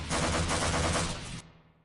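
Loud, dense burst of rapid automatic gunfire in Half-Life, a sustained volley for well over a second that stops abruptly and leaves a fading tail.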